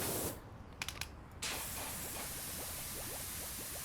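A pressure washer sprays cleaner onto a fire truck in the PowerWash Simulator video game, giving a loud, steady hiss that cuts out briefly for a few clicks and then resumes as a constant spray.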